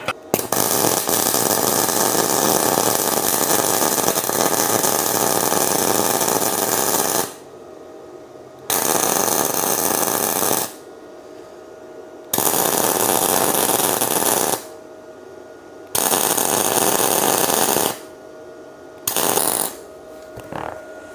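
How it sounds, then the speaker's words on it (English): A Bestarc MIG145 MIG welder closing a gap in metal, loud steady crackling buzz in long bursts with several short pauses between passes, close by and without talk. "Let's try to weld this gap up."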